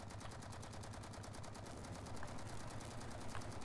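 Rapid automatic gunfire from a hostile creature in the video game Space Engineers, a dense, steady stream of crackling shots that runs loud and unbroken from start to finish.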